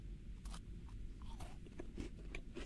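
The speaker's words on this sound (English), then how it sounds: "Isn't that the crunchiest banana you've ever?" In a horror video game, a character bites into a crunchy banana, giving a few sharp, close crunches followed by chewing, quiet and without talk.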